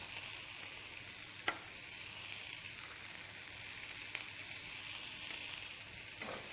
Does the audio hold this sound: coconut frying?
yes